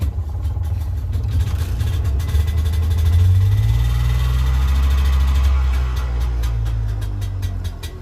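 A generator engine starts and settles into a steady, loud running drone with a low rumble and a slight rise in revving partway through, close by.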